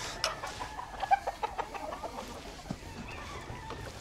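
Roosters at a gamecock breeding farm cluck in a steady run of short, close calls over outdoor background noise, with no talking.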